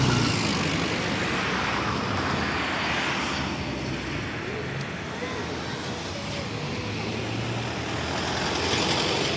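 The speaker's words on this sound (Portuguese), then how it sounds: "Estou esperando os carros terminarem de passar." Cars and trucks pass along a city street in La Plata, Argentina, as a steady, loud roar of traffic that rises and falls slightly without a break.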